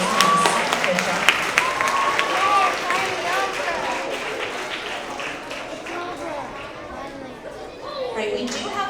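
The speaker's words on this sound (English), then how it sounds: "let's have another round of applause for all of our roaring readers" Students and audience clap for the roaring readers at a 3rd–5th grade winter award assembly, a steady crowded patter blended with children's chatter and shouts in a large school room.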